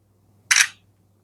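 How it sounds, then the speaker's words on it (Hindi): An Oppo A3x phone's front camera takes a single picture, giving a short crisp shutter click that stands out against a quiet background. "एक पिक्चर में क्लिक कर लेता हूँ।"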